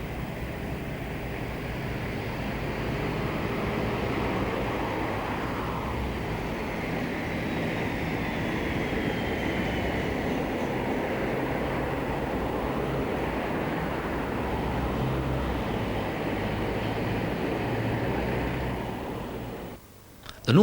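A British Rail Class 56 diesel locomotive hauling a newsprint freight train on the North London line: a continuous rumbling drone of engine and rolling wagons passing steadily, moderately loud, ending with a brief thump.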